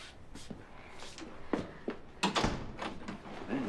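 A door opening in a 1989 horror TV episode, heard as a series of wooden clunks and knocks of varying loudness over a quiet room background, with no talking.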